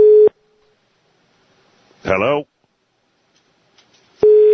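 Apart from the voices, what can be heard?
telephone line tone during a radio call-in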